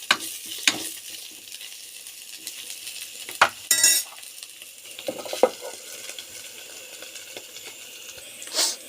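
Vegetables, including ridge gourd, frying and being stirred in a pan, with a soft steady sizzle broken by several sharp clinks of a utensil against the pan.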